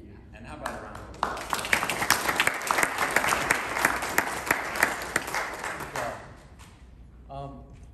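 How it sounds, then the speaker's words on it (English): An audience bursts into sustained applause, many hands clapping steadily for several seconds before it fades and a voice resumes. "how about a round of applause?"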